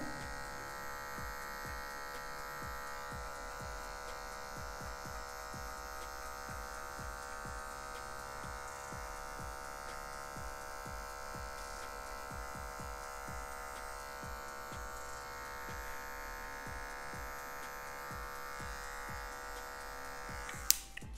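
An electric hair clipper buzzes steadily at close range while a barber cuts a low fade, with a constant hum and faint repeated clicks and snips underneath, with no talk over it.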